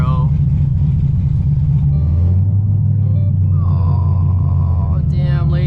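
A straight-piped Corvette Z06 engine rumbles loud and low throughout, its deep exhaust drone holding steady and shifting pitch slightly as the car idles and moves, with a voice speaking over it.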